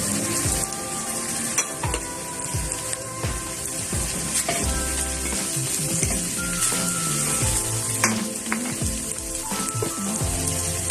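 Pickled garlic dropped into a hot frying pan with sweet peppers, giving a steady, loud sizzle of frying with scraping stir sounds and clinks throughout, no voices.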